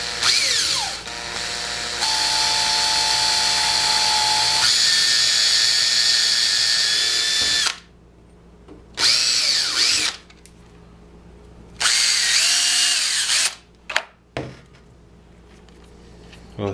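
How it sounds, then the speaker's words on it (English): A homemade wine must mixer and degasser is being drilled in bursts: a long continuous whine at the start, then several shorter starts and stops separated by quiet gaps, loud and close. "I'm going to drill one more."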